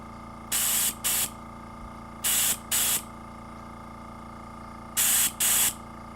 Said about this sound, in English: it's the head of my airbrush is plugged